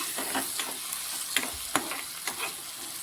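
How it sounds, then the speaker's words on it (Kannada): Onions fry in hot oil in a pan for a fenugreek leaf palya, a soft continuous sizzle broken by several sharper scraping strokes of a spoon stirring close by. "ಇವಾಗ ಈರುಳ್ಳಿ ಕೂಡ ಚೆನ್ನಾಗಿ ಫ್ರೈ ಆಗ್ಯದ್ರಿ."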